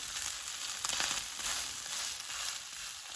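Crab cakes fry in a pan with uneven heat, giving a steady, close, dense sizzle and crackle that runs the whole time with no voices.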